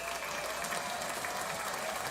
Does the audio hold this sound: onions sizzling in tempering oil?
no